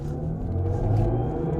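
A 2023 BMW iX M60 high-performance electric crossover accelerating hard in sport mode, giving a steady low rumble and whir that swells slightly as it goes, close and loud, with no talk.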